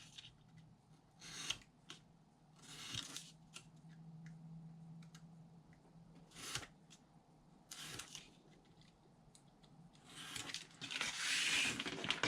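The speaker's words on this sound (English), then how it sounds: "So I'll angle cut in, remove this piece, and then I'll angle cut on both sides of my score marks on the bottom." Paper pieces for a small DIY paper box being angle-cut with scissors, several quiet crisp snips and rustles spaced apart, close and without talk.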